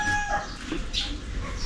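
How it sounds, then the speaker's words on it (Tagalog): Ducks being fed burnt rice give short, close clucking and quacking calls over a brief moment, with faint outdoor background noise. "Papakain natin sa pato."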